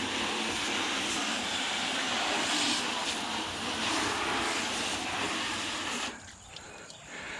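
Steady, broad hiss of a water spray rinsing out the wheel well of a 2005 Chevrolet Colorado truck, continuous and fairly close, with a brief dip near the end where the spray changes before resuming.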